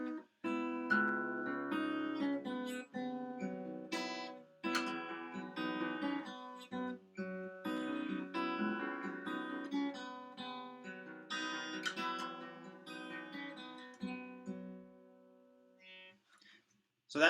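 Acoustic guitar fingerpicking an arpeggio pattern from a song, a steady flow of plucked notes played solo at moderate volume.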